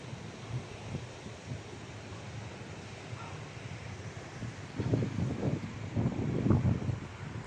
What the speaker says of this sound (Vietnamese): Gió nhiều ghê luôn.